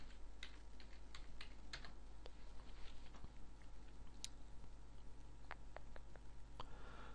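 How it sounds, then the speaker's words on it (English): Computer keyboard keys clatter in quick, uneven bursts of clicks at close range, with short pauses between runs, over a steady low background hum and no talking. "if you type into your search bar"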